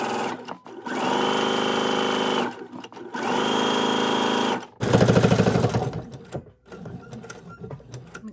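Sewing machine straight-stitching a curtain header, two steady close whirring runs of rapid stitching separated by brief pauses, followed by a louder, rougher burst as the stitching continues, with no talk.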